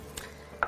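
A utensil stirs spices into a keto chicken dish with cauliflower rice, two brief soft scraping clicks against a pan or bowl, close and quiet with nothing else around.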